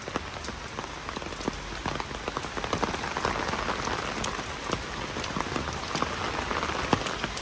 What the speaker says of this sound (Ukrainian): Але це вже переходить у зливу